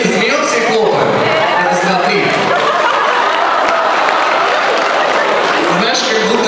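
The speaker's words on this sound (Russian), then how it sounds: "А давайте будем смеяться и тихонечко хлопать." A student spring festival audience laughs and claps softly together on cue, a loud, continuous crowd blend of chuckles and light applause with chatter mixed in throughout.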